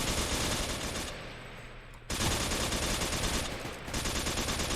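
Dense automatic gunfire rattles continuously during a police raid in an MTA roleplay game, loud and close, with a brief lull midway before the firing surges again, with no talk over it.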